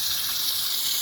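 Water gushing in a steady stream as it drains from a blocked drain on a Rover 45 car, a continuous close hiss with no break and no talk.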